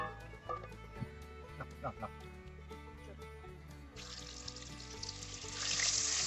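Fish frying in hot oil makes a quiet, steady sizzle with a few clinks and knocks. The sizzle grows brighter and louder toward the end, with no clear talking.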